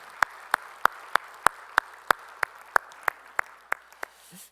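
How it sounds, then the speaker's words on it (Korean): Steady, evenly spaced clapping at a church service, about fourteen sharp claps in a brisk unison rhythm that slows slightly and fades near the end. "우리 찬양하실 주님께 영광의 박수 올리겠습니다."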